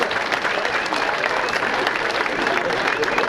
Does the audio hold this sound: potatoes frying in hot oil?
no